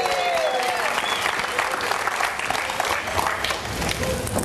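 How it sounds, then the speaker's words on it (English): An audience at the Magic Castle breaks into loud, sustained applause for a comedy magic show, dense clapping with a few whistles and cheers, steady from start to finish. "Let's give a big round of applause."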